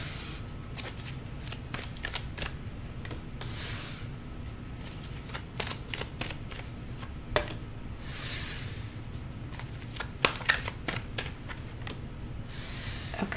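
Oracle cards being shuffled by hand, a close papery riffle that repeats in quick cycles, swelling into soft whooshing bursts, with a low steady background hum and no talk.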